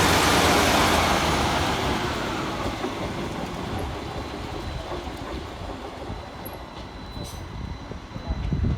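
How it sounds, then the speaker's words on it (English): A Transport for Wales Class 153 diesel railcar, unit 153-320, departs Cardiff Queen Street station. It rumbles loudly at first, then recedes into a steadier rolling clatter while people speak over it. "Next out to depart is 153-320, working the 1459 Transport for Wales service from Corriton through to"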